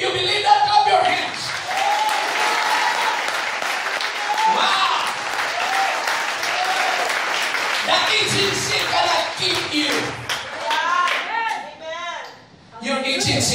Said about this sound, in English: If you believe that, clap your hands.